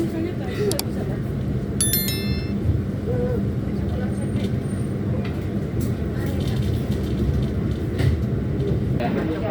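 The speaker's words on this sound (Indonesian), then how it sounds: "Pukul 15:41, kereta api Kamandaka diberangkatkan kembali dari stasiun Purwokerto tepat sesuai jadwal" The Kamandaka passenger train departs Purwokerto station with a low steady rumble of moving rail cars, short whistle-like tones early on, and people talking throughout.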